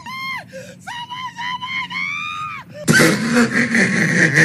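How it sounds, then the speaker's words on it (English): A woman lets out several loud, shrill screams in a row, then a sudden burst of harsh noise cuts in. "Her scream."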